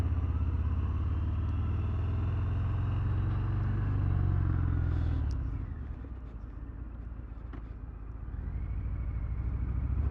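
A 2023 Harley-Davidson Fat Bob in vivid black rides along, a close, steady low engine rumble with wind noise that eases off midway and then builds again.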